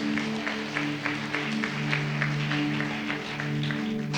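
A congregation claps hands in rhythm during a Tamil church service, with steady, even beats running throughout under a sustained musical drone.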